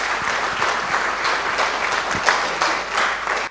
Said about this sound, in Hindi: सबसे पहले तो VNM TV और VNM फाउंडेशन के लिए एक बार जोरदार तालियां हो जाए